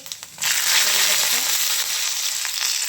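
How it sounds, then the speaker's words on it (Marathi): Cumin seeds hit hot ghee in a kadhai for dal fry and break into a loud, close, steady sizzle that starts abruptly and keeps crackling evenly throughout. "तूप टाकूया. ह्याच्यामध्ये जिरे टाकलेलं आहे"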